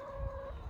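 Free-range laying hens on a farm with 1500 birds raised on the ground, a brief clucking call standing out over a dense background of poultry noise.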